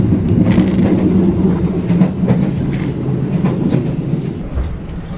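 Inside a carriage of the Senja Utama Solo passenger train, a steady low rumble and rolling hum fill the space, with faint intermittent clicks and rattles over the tracks and no voices.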